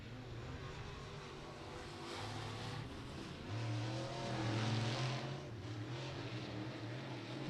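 A race car runs a qualifying lap at Beckley Motor Speedway, its engine droning and rising faintly in the distance, with no voices.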